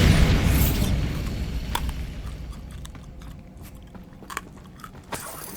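A Bombarda spell explosion in the video game Hogwarts Legacy bursts loudly at the start, then decays into a rumbling tail, followed by a few faint clicks and small knocks.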